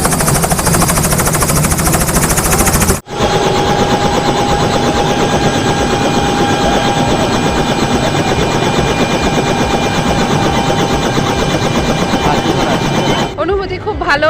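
A helicopter carrying schoolchildren on a joyride at a school event gives off a loud, steady engine and rotor drone that runs continuously after a brief cut near the start.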